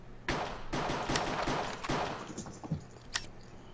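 Gunfire in a Minecraft Cops and Crims match, a Counter-Strike style game mode: dense, rapid bursts of shots run almost continuously for about three seconds, loud and close, then trail off into a few scattered pops.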